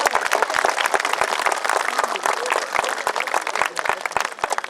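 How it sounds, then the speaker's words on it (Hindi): An audience at a mela talent event claps together in a dense burst of many hands, sharp individual claps standing out through a continuous wash that runs the full length without pause. "एक बार कूटो तालियां, तो कार्यक्रम शुरू हो।"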